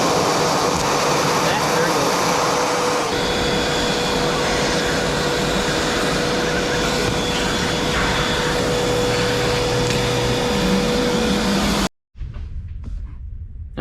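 A Flex cordless vacuum runs loud and close, sucking up debris with a steady roaring whine that shifts slightly in pitch before cutting off abruptly near the end, leaving quiet background.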